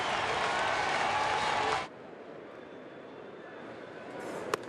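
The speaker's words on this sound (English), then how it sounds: "the Dodger fans change and applaud Kershaw for the effort here tonight" Baseball crowd of Dodger fans applauding pitcher Clayton Kershaw: a loud, dense wash of stadium clapping and cheering that cuts off abruptly partway through, leaving quiet ballpark ambience with a brief sharp knock near the end.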